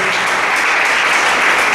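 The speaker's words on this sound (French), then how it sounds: "On applaudit, s'il vous plaît." An audience claps at a live event, producing dense, steady applause that holds at an even loudness throughout the short stretch.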